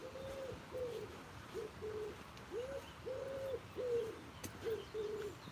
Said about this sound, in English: Can you hear wood pigeon?